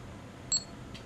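A DXG-567V hi-def video camera gives a short, high electronic beep when recording starts or stops. It is one brief, thin tone near the middle over quiet room hiss, with a fainter blip just after.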